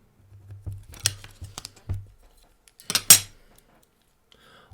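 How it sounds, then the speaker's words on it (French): Scissors cutting a paper circle for a homemade spinning top, a series of close, crisp snips and paper rustles in irregular rhythm, with a louder cluster of cuts midway and no talk. "prenez vos ciseaux, ici présents, et commencez à découper votre cercle"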